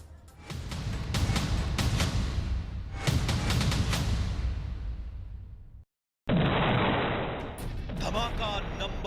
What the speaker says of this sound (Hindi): धमाका नंबर 2, धमाका नंबर 3, तीनों धमाके एक साथ।